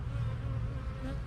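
Honey bees from a queenless colony with a laying worker hum around an open hive in a close, continuous drone that holds steady throughout, with no voices.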